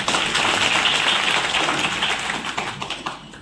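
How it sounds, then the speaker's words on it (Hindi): An audience at an RCM business meeting bursts into loud, dense applause that holds steady, then gradually thins out into scattered claps. "एक बार आपकी जोरदार ताली"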